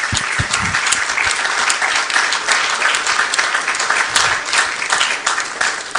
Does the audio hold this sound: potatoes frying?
no